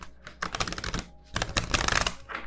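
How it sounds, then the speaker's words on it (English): A Light Seers Tarot card deck being shuffled by hand: two quick bursts of crisp, rapid clicking and flicking, close and fairly loud, separated by a short pause. "Let me see if I can actually shuffle this way."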